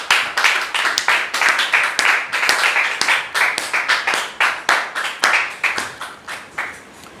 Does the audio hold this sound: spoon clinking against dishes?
no